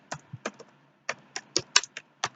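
Keystrokes on a computer keyboard while setting up a Google Classroom assignment rubric, about eight separate taps spread unevenly over two seconds, close and fairly quiet with no talking.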